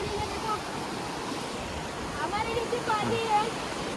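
Steady rushing water flowing beneath a bridge during the monsoon in Khed, Ratnagiri, Konkan, a broad continuous roar with faint voices murmuring in the background.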